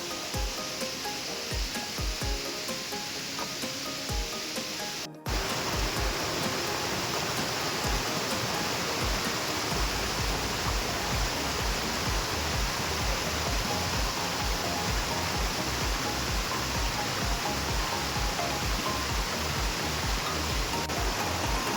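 Steady, loud roar of a waterfall on the Annapurna trek between Chhomrong and Dovan: dense rushing water filling the whole clip, close by, with a brief dip in level about a quarter of the way through and no voices.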